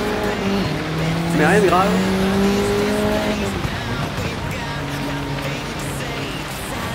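Race car in Gran Turismo 7 running wide through a corner, a steady loud engine drone with rising and falling pitch shifts and a short tire squeal, under someone talking throughout.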